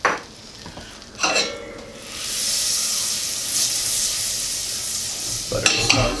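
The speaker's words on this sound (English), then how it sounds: "the butter melted, and of course butter does burn, so I'm going to get some oil and I'm going to top it off." Butter and oil sizzle in a pot on the stove, a close, steady hiss broken by a few scraping stirs of a spoon at the start and end, with no talk.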